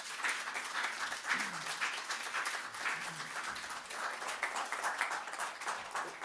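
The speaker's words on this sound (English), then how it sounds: "So I want to bring our host back up on stage, Winihin, to take a round of applause," A room full of people claps for a host called back up on stage, a steady, moderately loud patter of many hands with a voice briefly heard beneath it.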